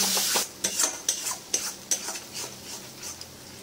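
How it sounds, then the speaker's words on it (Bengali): Yogurt blended with Kashmiri chili powder is worked in a pan, a utensil scraping and tapping in quick repeated strokes over a soft sizzle, close and loud, then easing off. "দইটাকে ভালো করে কষিয়ে নেব"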